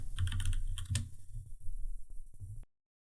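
Quick keystrokes on a computer keyboard, close and fairly quiet, a short burst of clicks followed by scattered taps before the sound cuts off.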